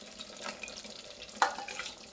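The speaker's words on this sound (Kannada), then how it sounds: "ಇದರಲ್ಲಿ ಮಸಾಲೆ ಇರೋದೆಲ್ಲ ಒಂದು ಸ್ವಲ್ಪ ನೀರು ಹಾಕ್ಬಿಟ್ಟು" Water poured into a bowl holding leftover masala while making sambar, a faint, brief splash and trickle in a quiet kitchen.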